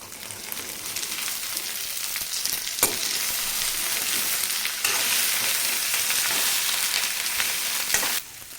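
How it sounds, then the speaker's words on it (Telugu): Lady's finger (okra) pieces fry with ginger garlic paste and onion in a hot pan, a steady close sizzle with occasional stirring scrapes and clinks, no voices. "తరువాత అల్లం వెల్లుల్లి పేస్ట్ వేసుకోవాలి. తరువాత బెండకాయ ముక్కలు వేసుకోవాలి."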